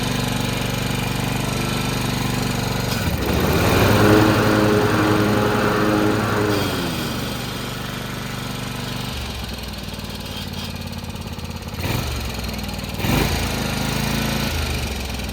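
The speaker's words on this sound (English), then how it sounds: "that V-twin sounds so much different than a single cylinder" A small V-twin engine, the kind on a small machine rather than a truck, runs steadily close by, briefly climbing in pitch as it revs, then settling back to a rough, even idle.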